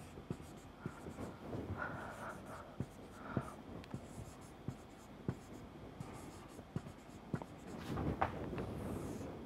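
Pen strokes as a coefficient matrix is written out by hand: a series of short, crisp scratches and taps at irregular intervals, close and fairly quiet, with no voice.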